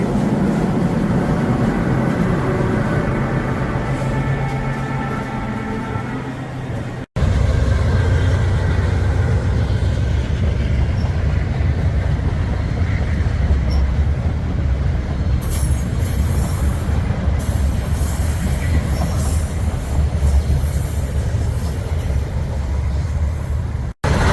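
A Toronto TTC RT rapid transit train rumbles past loudly and close, a steady heavy roar of wheels with faint squeals, lasting the whole stretch.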